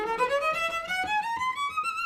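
A cello plays a smooth rising scale from the fourth variation of Tchaikovsky's Rococo Variations, one continuous bowed line with gently separated notes climbing steadily, heard up close and alone.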